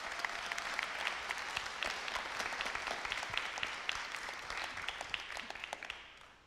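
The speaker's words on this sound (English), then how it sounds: "Should we give Riley a round of applause?" Applause from an audience at an evening church event: a dense, continuous round of clapping lasting several seconds before tapering off at the end.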